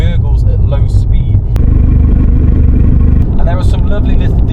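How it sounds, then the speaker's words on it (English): Abarth 595 from 2018 with its sports exhaust gurgling at low speed, a loud, steady low rumble with talk running over it throughout. "the exhaust gurgles at low speed"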